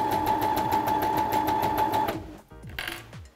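A sewing machine runs at a steady fast rattle while stitching fabric for a simple four-rectangle dress, then stops abruptly partway through, leaving a few light handling clicks and rustles.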